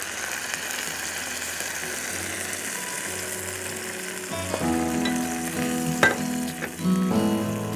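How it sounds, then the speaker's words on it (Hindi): Masala with water and tomato puree sizzles and bubbles in a frying pan for balti bhuna mutton, a steady frying hiss. Clinks and scrapes of stirring grow busier toward the end. "मैं इसमें थोड़ा सा पानी डाल के और मसाला डाल रही हूँ टोमेटो प्यूरी के साथ"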